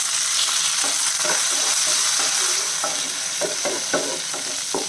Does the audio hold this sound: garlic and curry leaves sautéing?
yes